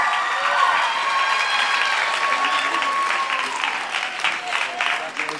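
Audience applauding dance award winners at the NYCDA Phoenix Nationals, sustained clapping and light cheering from a crowd, with music and a voice over a microphone running underneath.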